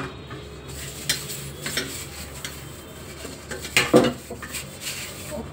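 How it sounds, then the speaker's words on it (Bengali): Dishes, pots and utensils being washed by hand, with scattered clinks and clatters of metal and crockery over a soft background, irregular and moderately close, including one louder cluster of knocks. "বাসন মাজতে একদম ভালো লাগে না।"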